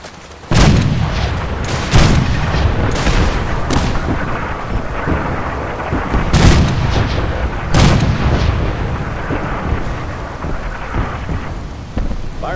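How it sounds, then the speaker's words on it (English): Artillery strike pounding a target in Fallout 4: several loud, heavy booming impacts at irregular intervals, each followed by a rumbling roar, over continuous rain-like crackling noise. "Copy, fire mission battery HE have sat lock on target. Fire for effect, over."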